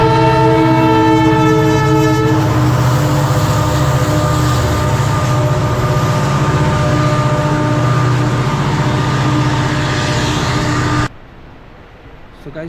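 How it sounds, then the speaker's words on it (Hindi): A train passes near Makrana, Rajasthan, loud and close. A horn blast opens the pass, then a steady roaring rumble of wheels and wagons runs on until the noise cuts off abruptly near the end. "अच्छा कौन सी ट्रेन आ गई है?"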